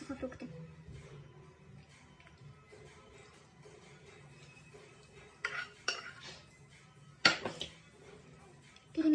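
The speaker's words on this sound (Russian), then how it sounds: "Перемешиваем все хорошо." Sweet plov with sugar and dried fruit is stirred in a pot, the spoon scraping and clinking against the metal in scattered knocks under a low background hum, with a few louder clanks toward the end.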